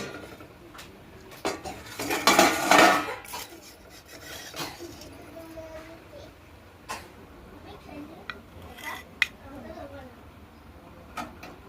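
A spoon mixes semolina batter with grated coconut for chitoi pitha, making gritty rasping strokes against a bowl. A loud burst of scraping comes early, then lighter intermittent taps and scrapes follow under faint background voices.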